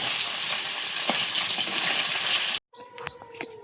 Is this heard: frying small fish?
yes